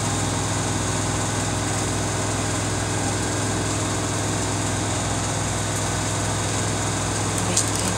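A Samsung WF45N5300AW washing machine spinning a large load at about 1250 RPM, a loud, steady, continuous whir and hum heard close up with no breaks.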